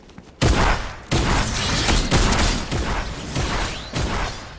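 Gunfire in Fortnite: a string of loud, sharp shots about a second apart, each with a booming tail and some mechanical clatter between them, close and dominant.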